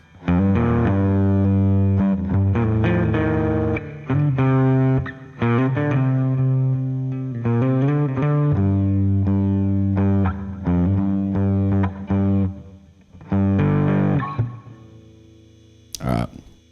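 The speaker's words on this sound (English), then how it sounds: "It just sounds so good with the distortion though." An instrument played through a heavy distortion effect sounds buzzy, sustained notes and short melodic runs, loud and close, before cutting off near the end.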